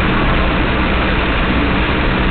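A four-wheel drive engine pushes through floodwater on a flooded rural road, giving a steady, loud low rumble with continuous broadband wash and no pauses or voices.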